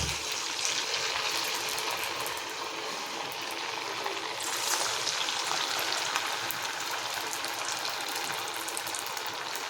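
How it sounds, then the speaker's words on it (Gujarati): Sabudana vadas deep-frying in hot oil over a low flame, a loud, steady, dense sizzle that runs unbroken throughout without talk. "હવે આપણે વડાને તળી લઈશું"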